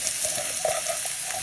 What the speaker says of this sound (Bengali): রসুনটাকে আমি একটু হালকা নেড়ে দেবো।